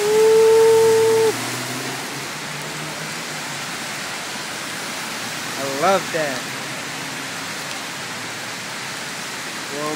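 Rain falls steadily on a New York City street, a constant hiss of water spreading over everything, while a voice speaks briefly near the start and a short tonal chirp cuts through midway.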